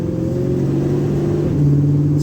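A 1953 Ford F100 hot rod's engine runs loud and close, its steady rumbling drone climbing in pitch as it revs partway through.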